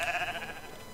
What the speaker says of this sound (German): oh je, wir haben ja eine ganze Menge Schafe hier